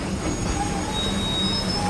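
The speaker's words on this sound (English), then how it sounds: "As the passengers for Mahabad clamber down from the train with the usual noisy pantomime, Penny watches with interest" A train standing at Mahabad station in India, a steady rumble of rail cars with faint high wheel squeals running throughout, close and continuous with no talk.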